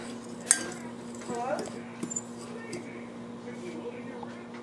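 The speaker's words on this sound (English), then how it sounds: "Get a fork for this. Just kind of mix that up good." A fork mixes brown sugar with Italian dressing mix in a bowl, giving a sharp clink near the start and then soft, scattered scraping and tapping at low volume. A faint voice may be present in the background.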